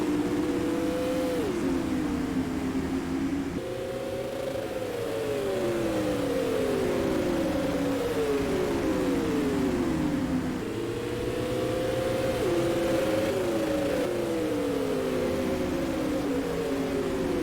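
Supermodified race cars at full throttle on the Oswego Speedway oval, engines screaming loudly in repeated rising and falling sweeps as the pack roars past and laps around, continuous and unbroken.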